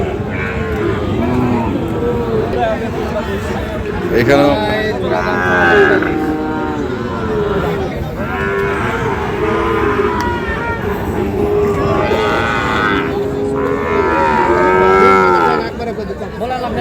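Cattle low and moo repeatedly at a busy livestock market where Sahiwal bull calves are sold, the calls rising over steady crowd chatter and bargaining voices close by.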